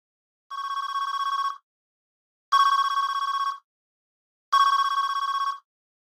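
A telephone rings in Farming Simulator 22: three evenly spaced electronic rings, each about a second long with short silent gaps, clear and close with no talk.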